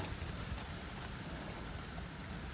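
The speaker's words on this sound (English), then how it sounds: "Let's hide from the rain a little bit." Steady rain in Seoul hisses across the whole band, an even, continuous wash with no breaks or voices.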